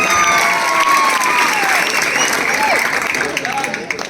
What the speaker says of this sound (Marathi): पुन्हा एकदा शांततेमध्ये टाळ्या बाजून या दोघांचं कौतुक करूया